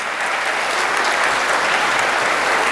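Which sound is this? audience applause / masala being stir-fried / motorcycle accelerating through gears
audience applause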